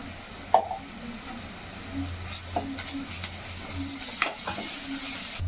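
Ginger sizzles softly in an oiled pan during stir-frying for an omelette curry, a faint steady frying hiss broken by occasional spatula scrapes and taps.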